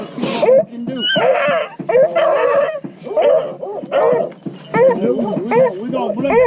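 A pack of hunting dogs gathered before a rabbit hunt barks, yips and whimpers in rapid overlapping bursts, loud and close throughout.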